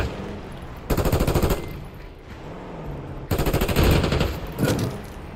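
Rapid automatic gunfire from the video game Call of Duty: Black Ops 6, two long loud bursts separated by a quieter lull, followed by a shorter burst, with no talking.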